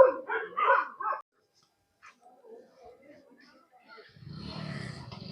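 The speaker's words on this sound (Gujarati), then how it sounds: "જો આ કૂતરાઓ" Dogs at a hillside shrine with a water tank give a few short yelps and barks at the start. A near silence follows, then a low, steady rumble of background noise.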